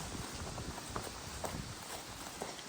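Footsteps walking back to a truck across a cattle pasture along a fence line, soft irregular steps in grass amid steady outdoor background noise, close by, no talk.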